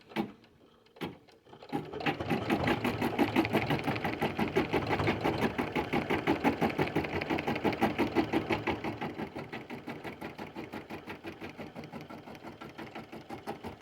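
An embroidery machine stitches a satin fill on fabric held in a hoop, with a fast, even needle rhythm that runs steadily after a couple of brief opening taps.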